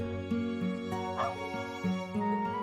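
Game audio from Trails of Cold Steel IV with a dog barking and yipping several times in short bursts over steady background music, with no talk.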